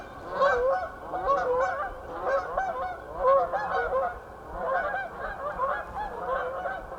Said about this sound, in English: all these geese are flying directly towards me